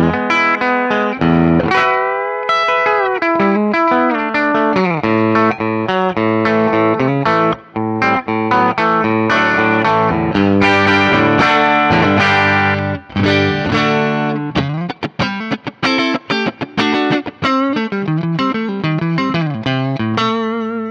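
Electric guitar through a modeled Fender Deluxe Reverb amp on an Axe-Fx II, playing a melodic passage with chords and single notes, clean and bright with a touch of chorus and reverb, loud and unbroken.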